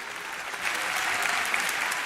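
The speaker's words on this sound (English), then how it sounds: "Please give him a great round of applause and welcome him to the stage." Enthusiastic lecture audience applause welcoming David Graeber to the stage, a dense, steady wash of clapping hands from a crowd, continuous throughout with no talking.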